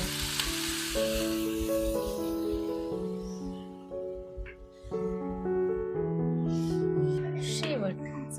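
A mixed vegetable dish with sesame and peanut powder sizzles and hisses softly in a pan on a wood-fired stove after water is poured in. Sustained melodic music plays over it throughout.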